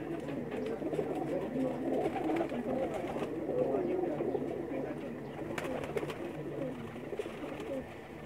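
A loft of Khambi Pakistani pigeons coos softly at a distance, with overlapping low murmuring calls that run through a faint, busy background.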